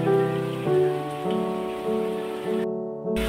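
Ghugni, a Bengali dried-pea curry, sautéing with a roasted powder of cumin, fennel and coriander, giving a steady close sizzle that runs the whole time, with a brief dip in the hiss near the end.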